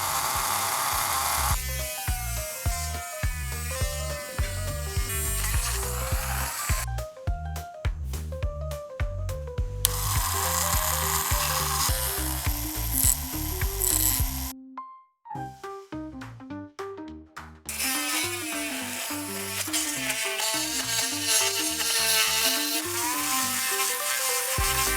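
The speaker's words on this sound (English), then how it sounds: "Here we go again with my trusty hand drill." A buzzing, motorized drill whines in bursts that rise and fall in pitch, pausing briefly between runs, loud and close.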